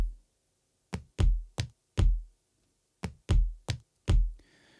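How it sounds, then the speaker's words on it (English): Layered recorded foot stomps used as percussion, heard as dull, boomy thuds alone in a two-bar pattern, grouped as single hits and quick pairs. "And the feet together sounds like this."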